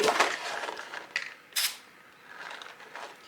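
A few short hissing bursts from a Flex Seal spray can close by, test-sprayed while making a doormat, with clicks and rattles between them in an otherwise quiet room.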